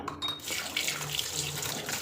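Jackfruit pieces are rinsed under a running tap, a steady close rush of water splashing into a sink for about two seconds.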